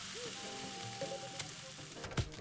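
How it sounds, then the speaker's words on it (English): Fried chicken sizzles in the cooking game Cook, Serve, Delicious, a soft continuous crackle of frying with small clicks and stirring sounds over it. "Dunk these goddamn fried chickens"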